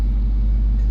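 Dodge Hellcat engine remote-started, idling with a deep, loud, steady rumble that holds unbroken throughout the brief moment.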